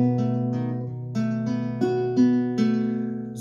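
A classical guitar plays a short passage from a prelude, with plucked bass notes and arpeggiated chords ringing out cleanly in a few quick strokes, close and alone.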